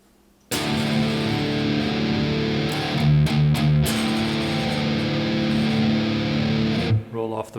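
Distorted Reverend Sensei RA electric guitar with bass rolled off plays sustained, gritty chords at steady loudness, with a few brief breaks in the middle and a sudden cutoff near the end.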